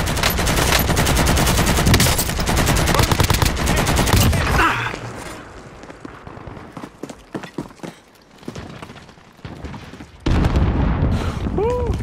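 Rapid automatic gunfire in a Call of Duty match, dense and loud at first, then scattered sharp shots over quieter game sounds, with a heavy burst returning at the end.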